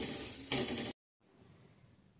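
Ginger-garlic paste frying with carrots in a pressure cooker is stirred, giving a brief loud sizzle and scraping that cuts out abruptly, then returns as a quieter sizzle.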